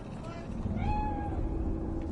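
A lone cat in Night City, in the game Cyberpunk 2077, gives a single drawn-out, rising-and-falling meow. It sits faint and mid-distance beneath a steady low urban rumble.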